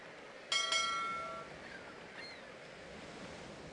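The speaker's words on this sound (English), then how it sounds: "The wind is whisking by to the west." Steady outdoor wind rushes by on open water, a constant close breathy roar with a short tonal call near the start; no one speaks.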